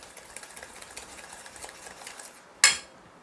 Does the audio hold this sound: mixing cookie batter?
yes